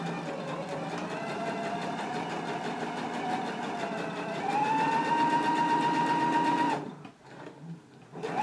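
A domestic sewing machine runs steady basting stitches close to the inner raw edge of fabric, its motor whirring at an even pace, rising slightly in pitch midway and then stopping abruptly near the end, close and clear.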